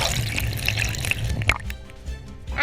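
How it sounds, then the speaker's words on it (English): Fish and water poured from a container into the Anacostia River make a splashing, gurgling pour that runs for about a second and a half, then trails off into scattered drips and trickles. "On the count of 3, we're going to pour our fish into the water."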